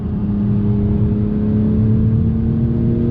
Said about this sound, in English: Getting the power down with the super handling all-wheel drive.